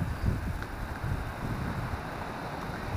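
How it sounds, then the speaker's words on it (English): Steady roaring wind buffets the microphone, with a constant low rumble of rough sea underneath and no voices, on the coast at Cromer, Norfolk, in November. "the sea's a bit rough because it's a bit windy"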